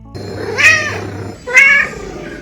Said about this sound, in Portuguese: o criador captou os áudios do miado do próprio gato